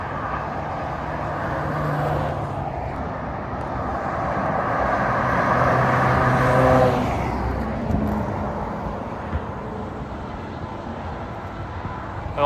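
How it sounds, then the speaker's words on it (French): A Porsche GT3 Touring drives past on a Normandy motorway; its engine and tyre noise rise to a peak midway, then fade as it recedes beneath general traffic rumble. "Ouah, config de ouf la GT3 Touring."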